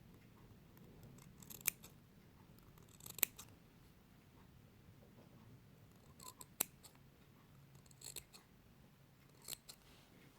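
Scissors snip through material in a handful of sharp, separate cuts spread across a quiet stretch, as two strips are cut for avocado-style floral or craft mounting. No one speaks.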